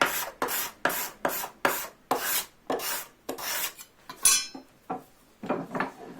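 A steel cabinet scraper is drawn across the wooden frame of a bow saw to smooth out tear-out. About a dozen close, rhythmic rasping strokes come in quick succession, then a short pause and a few softer strokes.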